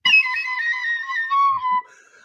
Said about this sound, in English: The reason why I have this Irish whistle is because my family says I'm too loud.